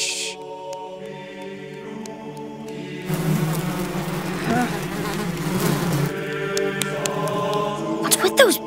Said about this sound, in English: It's going pretty good, except for those noisy bees.